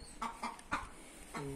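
An Asil Indian rooster among hens makes a few short, spaced clucks at low volume, followed by a brief tonal call at the end.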